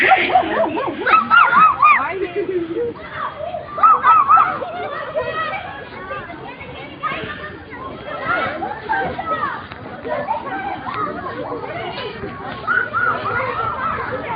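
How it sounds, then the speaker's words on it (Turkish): A dog yips, whimpers and barks in short, close bursts, mostly early on, while a person talks over and between the sounds. "Gece yarısı sabahları gelip sadece karşımda havlayıp uyandıran köpeğe ne oldu be?"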